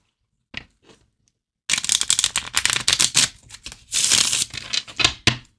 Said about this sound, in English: let me give it a couple more riffles to get it really randomized